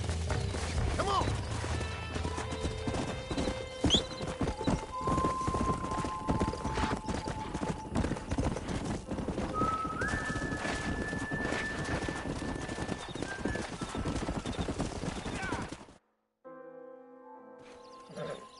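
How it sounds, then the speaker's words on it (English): In the Red Dead Redemption video game, horse hooves clip-clop steadily with neighing under game voices and music, ending after a brief silence. "We got some fine horses."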